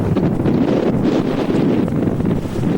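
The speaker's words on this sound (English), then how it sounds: "it's pretty windy up here, if you probably heard that." Strong wind buffets the microphone continuously at the Parthenon in Athens, a loud low rumbling roar with no pauses.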